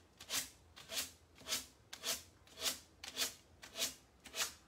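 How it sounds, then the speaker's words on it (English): Sandpaper rasps along the wooden edges of a side table in eight even back-and-forth strokes, a soft scratchy rhythm repeating about every half second, quiet and close. "Or you can use a sanding block as well if you have that."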